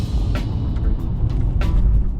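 Mercedes-Benz S550 4Matic V8 sedan accelerating, a steady low engine rumble with road noise heard from inside the cabin, moderately loud and continuous with a few brief lighter hisses.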